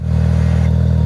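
Side-by-side 4x4 UTV engine labouring at steady high revs while winching the vehicle up a tree, a loud close droning hum with a rapid throbbing pulse and no voices.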